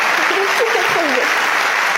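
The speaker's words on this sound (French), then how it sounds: "on peut l'applaudir, s'il vous plaît" Comedy show audience applauding loudly and steadily for a woman in the crowd, with a performer's voice briefly talking over the clapping.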